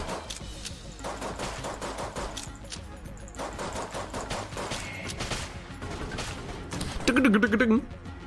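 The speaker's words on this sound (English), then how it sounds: "It's also the sound effect of serious cannon, I think, bouncing around." Cannon gunfire in the video game Enter the Gungeon: a steady stream of rapid, overlapping shots and impacts plays over game music, building to a louder, denser burst near the end.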